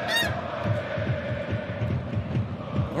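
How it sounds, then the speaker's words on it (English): In a video game, a goose honks with a brief, high nasal call at the start, followed by a low rhythmic throbbing hum that continues steadily underneath. "Don't forget to listen to that goose."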